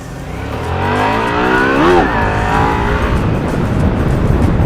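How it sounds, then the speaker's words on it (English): A motorcycle engine revs with a throaty exhaust rumble, rising to a loud peak and settling back to a steady drone, close and alone without voices. "Like, it's almost a good throaty rumble, like a"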